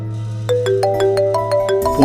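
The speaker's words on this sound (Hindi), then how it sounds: "फोन पिक करो," A mobile phone ringtone plays in a TV drama, a loud, close electronic melody of stepped rising notes over a steady low tone, with no talk.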